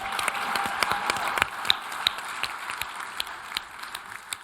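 Steady applause from a crowd of conference attendees at a booth, for panelists, with dense overlapping claps at an even level throughout and a few sharper claps standing out.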